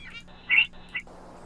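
Bird samples layered into a song mix, heard as a few short high chirps, one brighter burst followed by a quieter call, set over a faint steady low hum.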